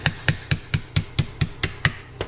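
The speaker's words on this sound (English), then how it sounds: "Might have to tap it through with a little hammer." A small hammer taps a transfer case shift cable through during an Advance Adapters HD transfer case install. About ten sharp, evenly spaced metallic knocks sound up close, with no talking.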